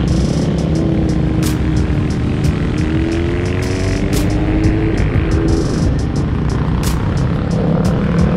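Big motorcycles on a group run up Mt Spokane, a loud continuous engine roar with rising and falling revs as bikes pass close by, dense and unbroken.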